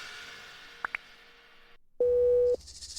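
On a speakerphone, a call tone sounds as a single steady electronic beep lasting about half a second, preceded by faint clicks and quiet line hiss.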